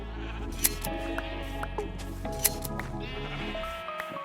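Minecraft sheep bleat in a quavering, nasal burst over layered in-game music and ambient tones, the calls short and moderately loud with no talking.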